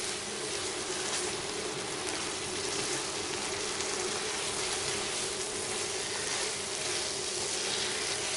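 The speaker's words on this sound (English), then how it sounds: "pour a bit of the broth in" Chicken broth pours steadily into a pot of mushroom soup, a continuous splashing, gurgling wash of liquid that stays close and even for several seconds, with no talking.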